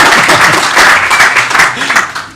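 Keynote audience at a developer conference applauding, a steady dense wash of clapping sustained across the whole moment at moderate level.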